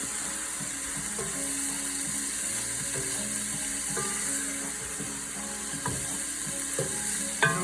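Meat frying in a hot pan gives a steady close sizzle, with scattered scraping and clicking as it is stirred and turned, and no talking.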